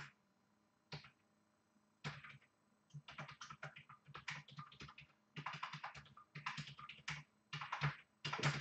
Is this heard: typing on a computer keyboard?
yes